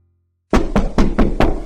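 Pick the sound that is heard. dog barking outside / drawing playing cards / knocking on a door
knocking on a door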